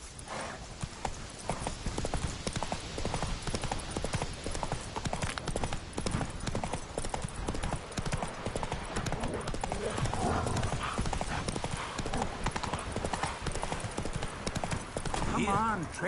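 Roach the horse gallops in Witcher 3, a steady run of hoof clip-clops lasting throughout over game music and ambience, with a brief whinny and some talk mixed in.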